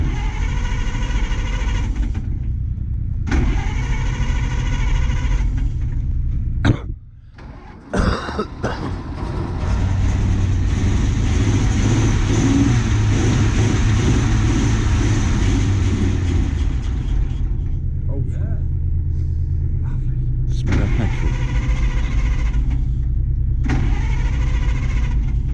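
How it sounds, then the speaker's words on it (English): A car engine cranks with bursts of starter whirring, then catches about seven seconds in and settles into a steady running drone, with a cough and shorter cranking bursts near the end. "Car starts first time almost."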